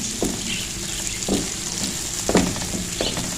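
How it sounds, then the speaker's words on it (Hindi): Red chilies and masala fry in oil over a low flame for an achari daal tarka, a steady sizzle with periodic louder stirring scrapes about once a second, no talking. "इसको लो फ्लेम पे करना है ताकि हमारी मिर्चें भी फ्राई हो जाएं और हमारा जो मसाला है ये जले नहीं"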